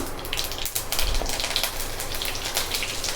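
Curry leaves crackle and sizzle in hot tempering oil, making a dense, close spitting patter with rapid popping bursts, and no talk is heard.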